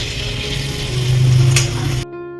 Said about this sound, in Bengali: এবার আলু দিয়ে ভালো করে মশলাটাকে কষাবো